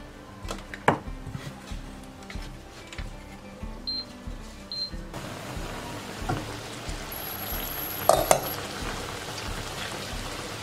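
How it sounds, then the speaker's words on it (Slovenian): Onion and chicken sauté in a pan for a home-style sataraš, giving a continuous crackling sizzle with occasional sharper pops and utensil clinks, and a brighter burst of frying toward the end. "Malo ćemo izdinstati luk i dodat ćemo piletinu."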